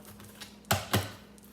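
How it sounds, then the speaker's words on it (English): Tarot cards being shuffled: two quick, crisp bursts of card noise about a quarter second apart, close but quiet, against a faint background hum with no talking. "I'm just shuffling my cards, y'all, for the next one."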